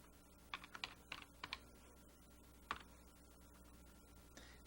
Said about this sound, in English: then we'll go back to typing her letter